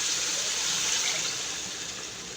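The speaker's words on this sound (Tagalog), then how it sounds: "Bagoong isda, nilagyan ko na po ng tubig ko." Water splashes and gushes steadily as it is poured into a pot of fish bagoong, close and loud, tapering slightly toward the end.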